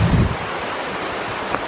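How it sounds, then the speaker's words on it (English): A powerful waterfall at Graveyard Fields near Asheville, North Carolina, running far heavier than usual, fills the air with a constant dense roar mixed with gusty wind on the microphone, no voices. "This is the most I've ever seen the water flowing before."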